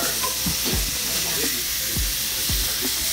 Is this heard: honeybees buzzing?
no